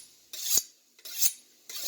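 A kitchen knife drawn across a sharpener, three separate rasping scrapes at an even pace, each a bright grinding swish that swells and fades, close and fairly quiet, with no talk.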